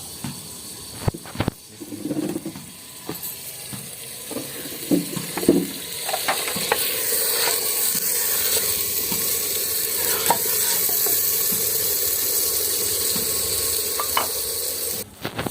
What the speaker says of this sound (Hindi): जो तड़का अभी बन रहा है प्याज और टमाटर का